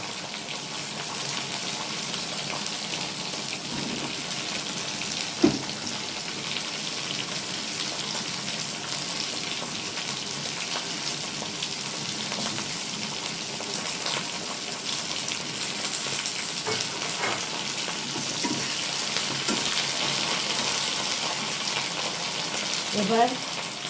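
Potatoes and eggplant fry in oil in a pan, making a steady, moderately loud sizzle with light crackles and the odd stirring clink, continuous throughout.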